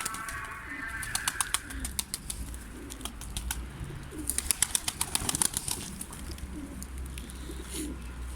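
Pigeons coo softly in a cage where baby pigeons are being fed, with repeated low coos and bird calls, occasional wing flaps and sharp clicks over a steady background.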